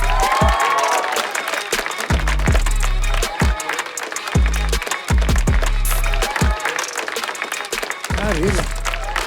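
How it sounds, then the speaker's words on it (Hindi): An audience claps and cheers loudly and continuously to welcome a news anchor, with voices and shouts mixed into the noise. "तो जोरदार तालियों से स्वागत किया जाए हमारे न्यूज एंकर जिनका नाम हमने छुपाया है"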